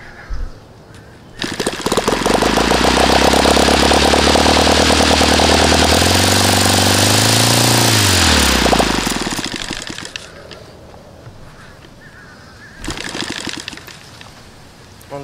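An OS FT-120 II model engine with a newly fitted carburetor runs loud and close for about nine seconds, revving with a rising and falling buzz before cutting out, then a brief burst follows later.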